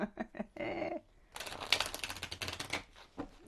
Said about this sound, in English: I am going to do a big girl shuffle.